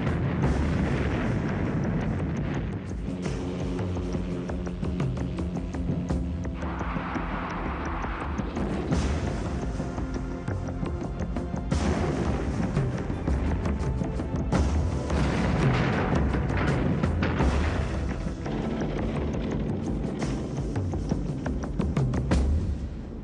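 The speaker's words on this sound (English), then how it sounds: "the gunner was able to launch a third strike against a mock convoy with a massive barrage of rockets" A massive rocket barrage from a Lockheed Cheyenne attack helicopter striking a mock convoy, a long, loud stretch of rumbling booms and blasts rolling on and off, with music or other steady tones mixed in underneath.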